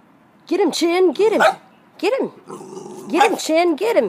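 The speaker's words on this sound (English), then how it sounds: "He's a teacup pit bull." A brindle teacup pit bull puppy growls and yaps in short, choppy bursts while a person nearby urges it on.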